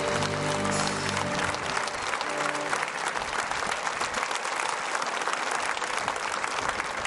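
Dense, sustained applause from a concert audience fills the whole stretch, loud and steady, with faint lingering musical tones underneath at the start before the clapping takes over completely.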